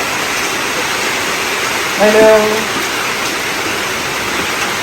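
Heavy rain pours down in a dense, steady roar, with a brief spoken phrase in the middle.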